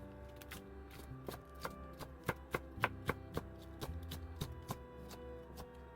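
Knife thinly slicing deseeded green chili and cheongyang peppers for cucumber water kimchi, a run of crisp, uneven taps on a cutting board over quiet background music, no talk.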